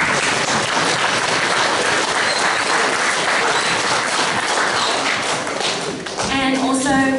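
Dense, loud applause from a school assembly crowd fills the hall continuously, with some thumps and taps mixed in; near the end the clapping dips and a tonal sound with faint voices emerges.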